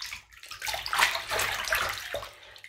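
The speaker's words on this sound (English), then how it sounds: "I'm just going to kind of shake this around in the water." A crumbly bath bomb shaken around in bathwater, giving steady sloshing and splashing close by, rising and falling across a couple of seconds with no talk.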